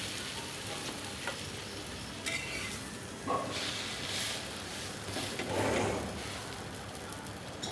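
Bread frying on a hot griddle (tawa) in a home kitchen, a steady soft sizzle with occasional scrapes and light clinks of utensils, with faint talk in the background.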